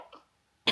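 A single short cough bursts out at the end, after a faint throat rasp and a moment of quiet. It is close and fairly loud against a still indoor background.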